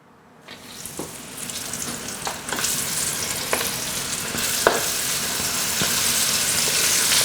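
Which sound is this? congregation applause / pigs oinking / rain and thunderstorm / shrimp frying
shrimp frying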